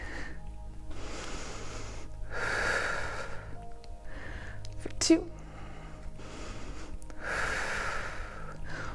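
Steady breathing during a yoga revolved high lunge, slow audible inhales and exhales in a repeating rhythm under an instructor's talking and soft background music.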